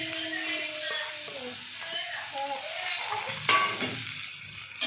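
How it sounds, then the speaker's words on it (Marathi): Soaked puffed rice sautés in hot oil with a little coriander, a continuous close sizzle mixed with scraping stirring sounds and a couple of sharper knocks against the pan. "आता याच्यामध्ये ना हे जे चुरमुरे होते भिजवून ठेवलेले ते घालून घेते"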